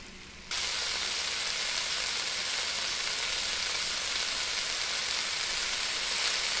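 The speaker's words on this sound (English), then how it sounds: "I could have let that cook a little bit more on that other side." Meat sizzles on a grill in the cooking game Cooking Simulator, a steady dense hiss of frying that starts abruptly and continues loud and unbroken, with no talking over it.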